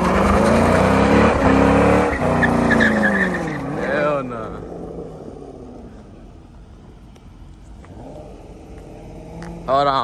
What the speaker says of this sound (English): Start off with a burnout.